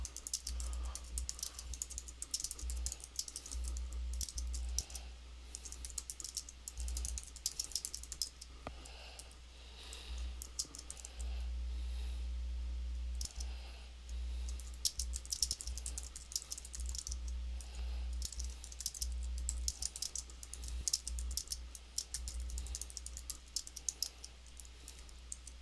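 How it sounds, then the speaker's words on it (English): Steady typing on a computer keyboard, with dense runs of clicking keystrokes broken by short pauses, close and fairly quiet, no talking. "I'll just type in a few lines of announcing this big"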